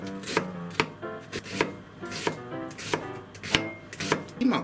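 A knife thinly slices an onion on a cutting board while making oyakodon, the blade striking the board in a steady, quick, close rhythm of crisp chops with no talking.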